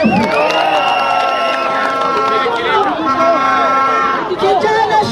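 Crowd at a political campaign rally cheering and shouting for an MCA from Roiro, a loud, dense swell of voices and whoops. Amplified speech runs over the noise, and applause is barely present.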